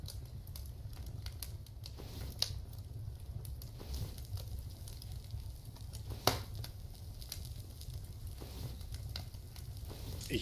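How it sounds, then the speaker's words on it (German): Fire sizzling and crackling in the Survive the Nights video game, a steady low roar with scattered sharp pops and crackles throughout, no voices. "Ich höre es schon brutzeln."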